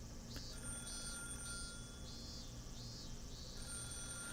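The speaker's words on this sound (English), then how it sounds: "The phone rang for over 3 minutes." A telephone rings in a repeating pattern of bright, pulsing bursts over a low hum, fairly quiet and steady, with no voices, from the Higurashi visual novel.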